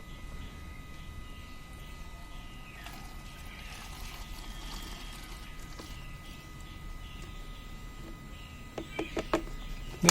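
Diesel drained from a Chevrolet Beat fuel line and poured into a 300 ml measuring container, a soft continuous trickle under faint background hum, ending in a few louder knocks and clinks.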